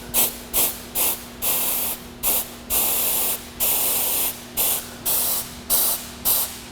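Short, sharp bursts of shop compressed air hiss through a disconnected windshield washer hose, about a dozen evenly repeated blasts with brief gaps between them, loud and close, with a steady faint hum underneath.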